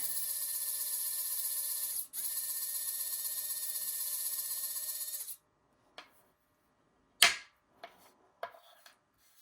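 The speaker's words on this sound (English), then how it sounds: "So I want to take my little drill and I am just going to put 2 little holes in here" A small electric drill whirs steadily for about five seconds boring holes in polymer clay, with a brief stop, then quiet clicks and taps of handling follow.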